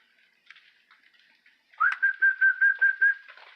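A person whistles to call a dog back from a neighbor's yard: soft scattered notes first, then a clear sustained tone broken into a quick run of rhythmic pulses, loud and close, with no talking.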